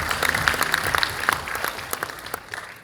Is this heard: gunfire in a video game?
no